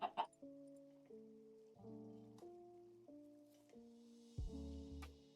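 Chickens in the game Minecraft, StoneBlock 17 modpack, give a run of stepped, tonal clucks and squawks, several short calls in sequence with a brief squishy burst near the end, fairly quiet and with no talking.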